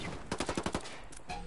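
A rapid burst of about six gunshots in the shooter game Ghost Recon, crisp and fairly close, fired in quick succession, followed by a quieter tail and one more faint report.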